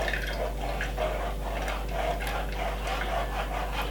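Blended cucumber juice being poured through a strainer, a steady close trickle and drip of liquid over a constant low hum.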